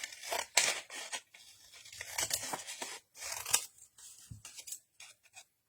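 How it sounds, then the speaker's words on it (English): Scissors snipping out paper cherry stickers, a close, quiet series of irregular crisp cuts and paper rustles with short gaps between snips, no talking. "I guess I'll cut my cherries out."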